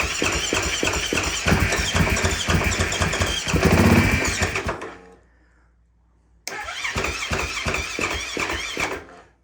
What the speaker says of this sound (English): Battery's dead, but it's firing.